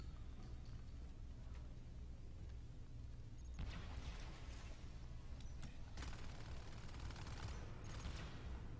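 Marine shotguns fire in the sci-fi shooter Natural Selection 2 as faint, distant blasts, a few scattered bursts in the second half over a constant low game hum.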